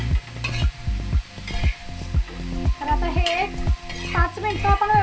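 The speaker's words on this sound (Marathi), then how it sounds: "नुसताच असा भाजून घेतला तरी पण चालतोय तेलातच असा भाजायचा" Vegetables sizzle and fry in hot oil, with repeated rhythmic stirring scrapes against the pan throughout; no one speaks.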